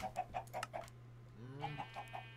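Chickens in the video game Minecraft, a run of about five short, evenly spaced clucks, a brief rising squawk, then four more clucks, moderately close with no talk.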